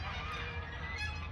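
Domestic geese honk in a harsh, continuous chorus close by on a farm, loud and unbroken with no voices over them.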